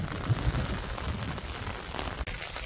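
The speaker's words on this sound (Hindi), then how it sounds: "बारिश काफी आ गई" Heavy rain pours steadily onto waterlogged, flooded paddy fields, a dense continuous hiss of drops with strong wind gusts, close and loud throughout, with no talking.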